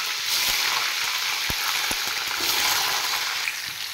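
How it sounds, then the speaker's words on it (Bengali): Boiled potatoes frying in hot oil in a kadai, a dense, even sizzle close by, broken by a few faint ticks and pops. "এবার আমি আলুগুলো ভেজে নেব।"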